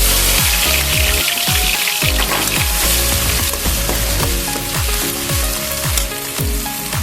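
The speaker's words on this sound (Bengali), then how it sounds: "তেলটা গরম হয়ে গেছে, আমি কড়াইশুঁটি বাটাটা দিয়ে দেবো।" Ground green pea paste hits hot white oil in a wok, a loud continuous sizzle with repeated scraping stirs and soft thuds in a steady rhythm, no talking.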